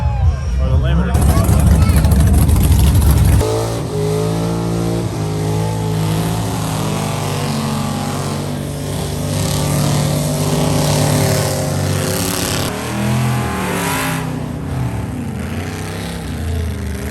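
A car engine bouncing on a two-step rev limiter at the Cleetus and Cars 2020 event, loud and close, with a heavy burst at the start and then a steady, rough, pulsing drone; people are talking in the background.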